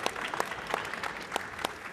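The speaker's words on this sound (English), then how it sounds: "If we give our panel a round of applause" Audience applause for a panel at a schools and academies conference in London, fairly faint, scattered clapping with distinct individual hand claps standing out over a soft crowd wash for about two seconds.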